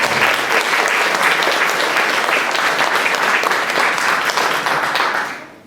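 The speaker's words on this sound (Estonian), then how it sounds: "teeme ühe aplausi veel" Applause from a concert hall audience at a gala concert after a performance. Dense, loud clapping from many hands continues evenly and then tapers off at the end.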